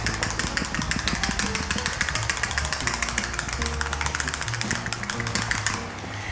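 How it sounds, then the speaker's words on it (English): A bottle of plastic restorer is shaken vigorously by hand, producing a rapid, rhythmic rattle and slosh up close that runs without pause for about six seconds. "So we're gonna give it a real good shake."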